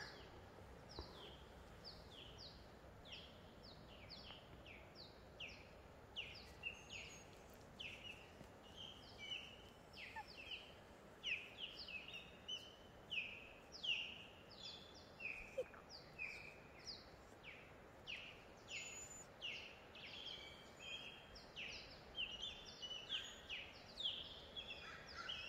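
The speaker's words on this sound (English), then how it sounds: "We're just going to listen to the birds." Outdoor birdsong: a dense chorus of high, repeated chirps and short whistled phrases rising from several birds at moderate distance, continuing steadily over a constant low background rumble, with no talking.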